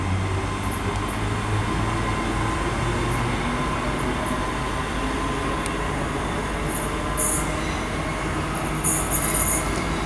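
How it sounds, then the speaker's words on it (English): ScotRail Class 385 passenger train running through Stirling on the service to Alloa, with a loud continuous rumble of wheels on rail, occasional high squeals and faint clicks. "the partner now is the 1125 ScotRail service to Alloa from Glasgow Queen Street"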